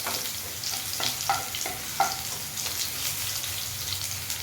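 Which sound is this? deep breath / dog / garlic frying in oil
garlic frying in oil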